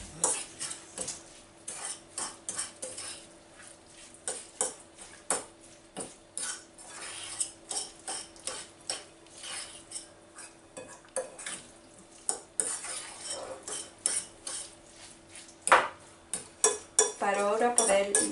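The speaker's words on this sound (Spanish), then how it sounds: "lo vamos a ir mezclando" Eggplant meatball mixture with breadcrumbs being stirred and mixed by hand, with repeated clinks and scrapes of a utensil against a bowl in an irregular rhythm, close up, with no talking.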